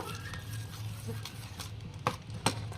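Yogurt mixture with mango and cardamom being stirred, soft continuous mixing with a few sharper spoon knocks against the bowl near the end, close and fairly quiet.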